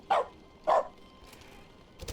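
A dog in the video game The Stanley Parable gives two sharp, close barks about half a second apart, followed by a quieter thump.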